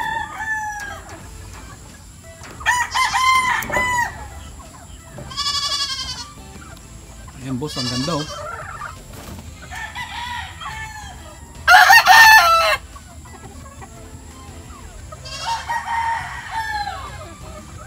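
Boston gamefowl roosters and hens at a hillside game farm in Montalban, Rizal crow in several separate, fairly close calls, mixed with clucking and low barnyard murmur while a voice speaks briefly.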